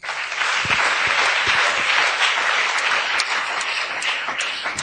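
Congregation at a church service applauding to acclaim the Lord, with dense, sustained clapping from many hands, loud and close throughout.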